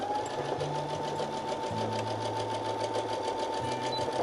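A sewing machine runs steadily while stitching a seam along a marked line, a continuous close mechanical whir with a faint high tone and brief shifts in motor pitch.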